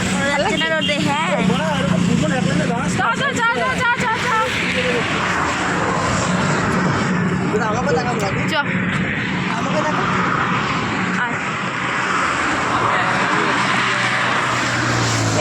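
Motorbike ride on a highway toward Digha with large vehicles passing, a loud steady engine and road roar with swelling passes, under frequent nearby talk.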